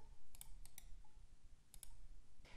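A computer mouse clicks in small, crisp pairs and singles, about six clicks spread across a quiet, near background with no talk.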